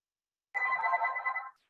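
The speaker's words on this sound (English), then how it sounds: "I'm working from home, so the house phone is ringing" A house phone rings once indoors, a single steady electronic tone lasting about a second, clear and moderately loud against silence.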